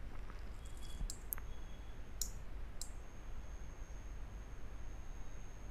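A few sharp computer mouse clicks, spaced irregularly and fairly faint, over a quiet hiss of room noise with no talk.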